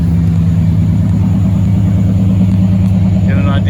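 A 1990 GMC Sierra pickup's engine rumbles steadily at close range with a deep, throaty muffler exhaust tone, idling and held slightly raised, with no clear rev spikes.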